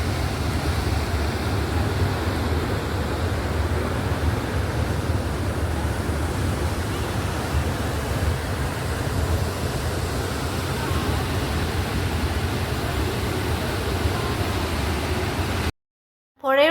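The Bharathapuzha river flows past its bank in a steady broadband rush, close and constant, with breezy wind mixed in before the sound cuts out near the end.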